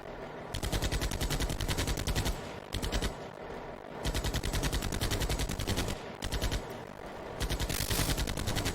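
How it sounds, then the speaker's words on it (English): Sustained machine gun fire in the SnowRunner video game, rapid loud bursts running almost continuously with a few brief pauses between volleys. "Oh, machine gun fire."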